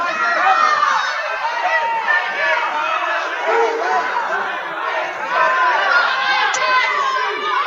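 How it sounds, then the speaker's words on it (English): Crowd noise fills a wrestling match in a ballroom venue, a dense, restless wash of many voices shouting and chattering at once, steady and fairly loud for the whole stretch with no single speaker standing out. "Crowd getting a little restless here."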